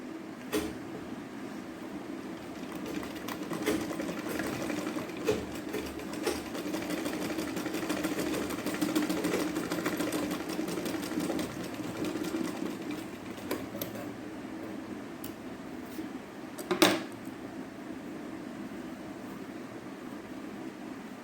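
A sewing machine stitches folded fabric for a blouse latkan, giving a close, continuous motor hum with faint clicks throughout and one sharper knock near the end.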